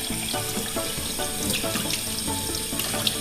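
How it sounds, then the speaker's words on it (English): Water runs steadily from a kitchen tap into a sink, a close, continuous splashing hiss with small clatters in the basin, and no voices. "Running water."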